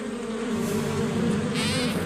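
A swarm of bees in a My Little Pony cartoon buzzes in a loud, steady drone that wavers slightly in pitch, continuous throughout with no speech.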